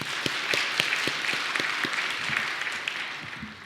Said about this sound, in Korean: 목사님들, 자, 손 들어보시죠. 박수 한번 하겠습니다.